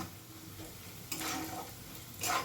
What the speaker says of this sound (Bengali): চালটা খুব সুন্দর করে ভেজে নিয়েছি কয়েক সেকেন্ড